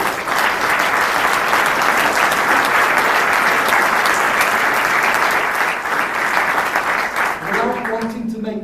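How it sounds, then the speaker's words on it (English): An audience applauds young researchers as they stand to be introduced: loud, sustained, dense clapping for about seven seconds, fading as a voice resumes speaking. "can you give them a round of applause?"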